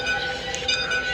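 A steady rolling train rumble with a sustained tonal hum and faint metallic ringing from the Bangladesh Train Simulator video game, a locomotive pulling coaches toward Chittagong, continuous and fairly loud for about a second with no voices.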